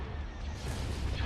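Starship weapons fire in the space strategy game Star Wars: Empire at War, Forces of Corruption: a dense, continuous roar of laser cannon blasts and rumbling impacts throughout, with no clear gaps between shots.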